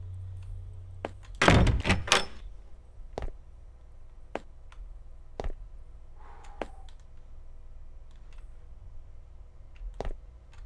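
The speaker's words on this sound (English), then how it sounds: "We can get into this door." A door opens in the horror video game Araya, heard as a loud burst of mechanical thuds and scraping, followed by several sharp, isolated clunks and knocks echoing through a quiet space.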